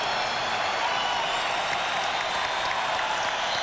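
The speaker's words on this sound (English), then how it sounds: "Crowd trying to get the Lakers going here" Basketball arena crowd at a Bulls versus Lakers NBA game in 1989, cheering steadily for the Lakers as a dense, loud roar that holds evenly without a break.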